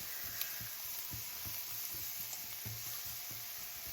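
Onions, scallions and vegetables frying in a pan for egg foo young give a steady close sizzle, with soft scrapes and taps of a silicone utensil stirring at intervals.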